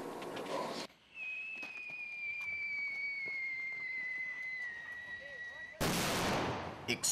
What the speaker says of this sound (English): Explosions rock an entry control point as American troops fight off the advancing enemy